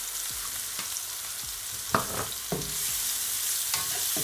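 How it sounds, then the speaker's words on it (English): Ground beef with taco seasoning sizzles steadily in a frying pan, broken by a few distinct scraping stirs and soft utensil knocks close by, with no talking. "Give it a stir."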